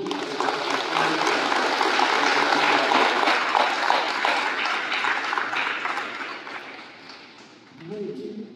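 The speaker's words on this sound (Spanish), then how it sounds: "Le hacemos un aplauso a Dios." Guests applaud at a Zacatecan-style quinceañera celebration in Los Angeles, a steady wash of clapping lasting several seconds before tapering off, with a voice emerging near the end.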